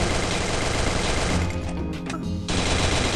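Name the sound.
gunfire shooting at a car from inside a tunnel in Free Fire video game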